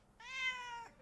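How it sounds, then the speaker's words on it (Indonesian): A single cat gives one drawn-out, clear meow, rising and then falling, close and fairly loud against a quiet room. "Nah, tuh kucingnya balik tuh."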